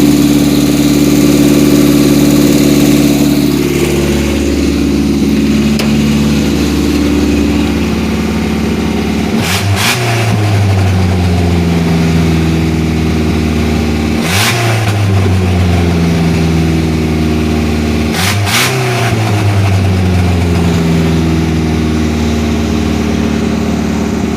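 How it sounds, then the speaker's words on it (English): A loud engine idles steadily, then revs up sharply three times, each rev dropping back to a rumbling idle. "now that we got the truck running"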